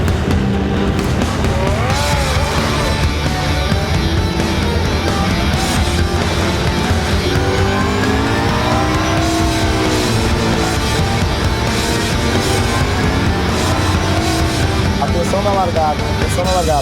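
GT race cars in the Blancpain Sprint Series qualifying race at Algarve, 2014, roar away from the race start, engines revving hard with rising and falling pitch and tyres squealing, loud and close, while commentary runs over the top.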